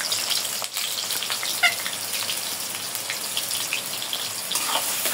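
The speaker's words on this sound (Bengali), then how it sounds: "পেঁয়াজ লাল লাল করে ভেজে নেব।" About two cups of onions fry in oil until reddish, giving a steady, close sizzle with fine crackles and a few small pops throughout, and no talking.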